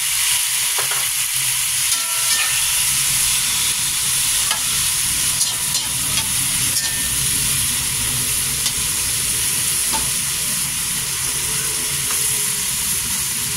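Onion and tomato fry for bagoong alamang in a steady, dense sizzle that stays close and loud throughout, with occasional light clicks of stirring and no talking.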